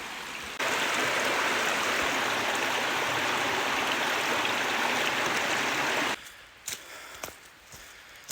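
A creek in the Citico Wilderness of Tennessee rushes loudly and steadily, close by, for several seconds before cutting off abruptly, leaving faint scattered sounds.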